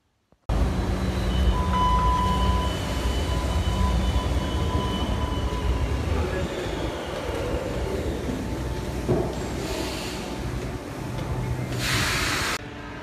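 A metro train runs through an underground station, with a loud rumbling roar and hiss that eases as the train slows, then brief bursts of air near the end.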